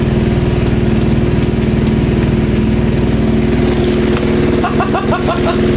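A Zanussi TJS1397W Jetsystem Excel 1250 top-loading washing machine vibrating hard, with a loud, close, steady motor drone and fast pulsing rattle that stays constant throughout.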